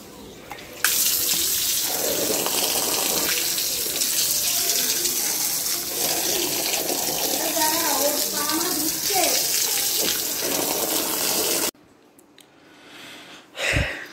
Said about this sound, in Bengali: এবার ধরো তো, পাটা ধুয়ে নিই।